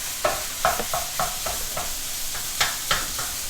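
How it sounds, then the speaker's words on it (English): Pork browning in a hot pan gives a steady sizzle, broken by sharp clinks and scrapes from stirring at an uneven rhythm, close and moderately loud with no talking. "We're going to brown our pork."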